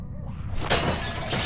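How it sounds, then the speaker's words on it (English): Window glass shattering in The Walking Dead video game: a low muffled lead-in, then a sharp crash and bright tinkling scatter of glass shards, loud and close, with no talking. "tried to shatter that window so you can reach in"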